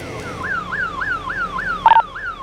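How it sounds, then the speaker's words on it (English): A building alarm wails with a repeating rising-and-falling electronic siren tone, loud and steady, cycling about every third of a second, with a few sharp knocks near the end and no one speaking. "The alarm's still going off though."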